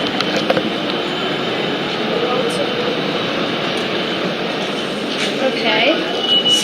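Trains at Spencer Street station in Melbourne, heard from inside a glass elevator as a broad, steady rumble with faint higher squeals, with murmuring voices in the background.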